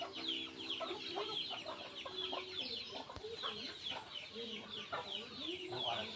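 Chickens cluck steadily in a rural hillside setting on the climb from Hiquial to Masicampo, a dense chatter of short fowl calls close by and moderately loud throughout, with faint voices mixed in.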